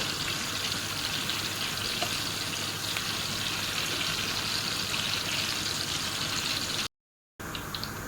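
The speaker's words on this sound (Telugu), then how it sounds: "ఇప్పుడు ఉల్లగడ్డల్ని ఫ్రై చేసుకోవాలి. మొత్తం వేసేస్తున్నాను." Sliced onions fry in hot oil while cooking maqluba rice, giving a steady, dense crackling sizzle close by with a short gap near the end and no talking.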